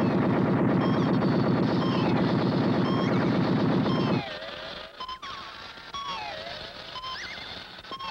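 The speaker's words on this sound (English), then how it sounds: "Iron Man, let's see you work those cannons" Rapid cannon fire from a 1965 Three Stooges cartoon rattles loudly in a dense burst for about four seconds, then gives way to quieter mechanical clanks and whistling cartoon effects.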